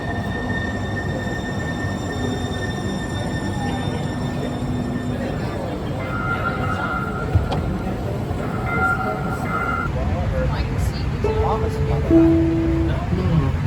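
Steady rumble of a Seattle light rail train in motion, heard from inside, with wheel squeals and tonal whines rising over the constant rolling noise.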